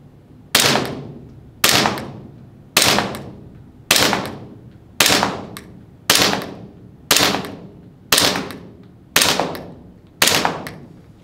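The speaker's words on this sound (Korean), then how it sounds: "자, 8m에서 사격 해보도록 할게요." An AW VX71 gas airsoft pistol fires ten loud, sharp shots at an 8 m range, evenly spaced about a second apart, each crack decaying quickly before the next, with no talking.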